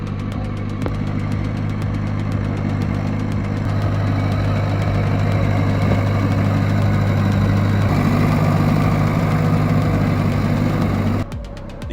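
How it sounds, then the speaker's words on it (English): A UTB 650 tractor, a 65-horsepower machine used for logging, idles steadily with a low, knocking diesel throb that holds nearly constant for about eleven seconds and then cuts off near the end. "The UTB 650 is a 65 horsepower workhorse."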